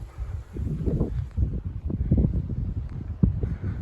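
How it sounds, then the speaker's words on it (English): Wind buffets the microphone in uneven low rumbling gusts in the Big Desert, rising and falling with no voices present. "quite windy out here, gusty on and off as well"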